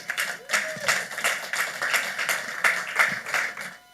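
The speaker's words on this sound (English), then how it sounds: "Please give them a round of applause." Audience applause at a festival panel discussion, a steady round of clapping with distinct individual claps, moderately close, and a brief voice murmuring underneath.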